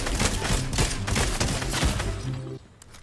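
A new tap gun firing in Fortnite Chapter 4, a rapid fusillade of loud close shots in quick succession that stops abruptly near the end.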